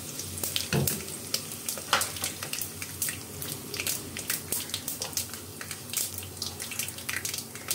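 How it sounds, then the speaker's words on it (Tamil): Mustard seeds splutter in hot oil in a pan, a faint, steady crackle of small pops and spits scattered unevenly over a soft low background, with no voices. "இப்போ கடுகு பொரிஞ்சிக்கிட்டு இருக்குது"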